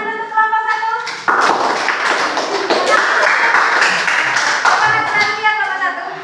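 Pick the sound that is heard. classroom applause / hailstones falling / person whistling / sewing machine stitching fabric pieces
classroom applause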